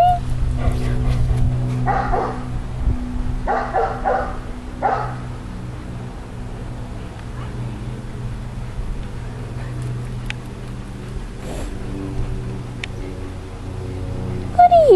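A Shiba Inu barks and yips in short clustered bursts at close range, then goes quiet, with scattered household noises and a person's voice heard at times.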